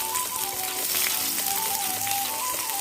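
Onions, green chillies and curry leaves sautéing in hot oil for a mutton gravy: a steady, dense sizzle and crackle that holds evenly throughout, close and fairly loud, with no talking.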